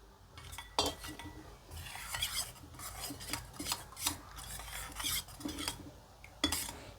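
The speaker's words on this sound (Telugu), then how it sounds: "ఇలా కలుపుకుంటే సరిపోయిద్ది" A spoon stirring sherbet with milk in a glass or bowl, a quiet run of clinks and scrapes in quick irregular bursts, close by and with no voices.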